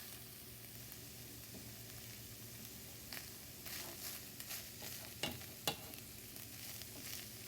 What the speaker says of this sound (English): Just going to give this a good stir.